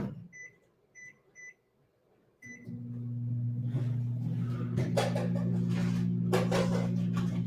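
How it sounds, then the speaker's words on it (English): A microwave oven heating a drink gives four short electronic beeps as it is set, then its steady low hum starts and runs on, with light clicks and rattles over the drone. "So I'm going to put it on about 2 minutes in the microwave."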